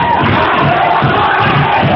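A boxing crowd roars in steady, dense cheering for boxer Erik Destroyer, loud and continuous with overlapping shouts and no pauses.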